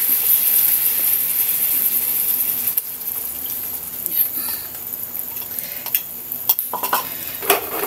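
Egg frying in oil in a pan, a steady close sizzle with occasional sharp utensil scrapes and clicks, a voice talking over it.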